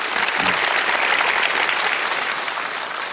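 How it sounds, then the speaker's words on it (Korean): A live audience at a Korean lecture event claps in a steady, full round of applause, loud and sustained throughout with no pauses. "박수 한번 해주시겠어요?"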